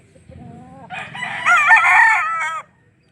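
A single loud rooster crow up close, rising from a low start into a long, full-throated call that cuts off sharply.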